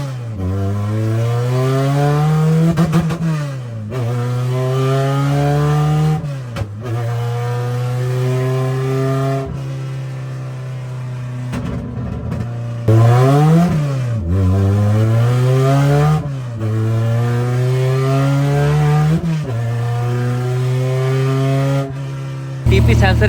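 A Honda K24-swapped EF hatchback revs hard on a road test, its engine note climbing repeatedly through gears with brief drops at each shift, loud and close throughout.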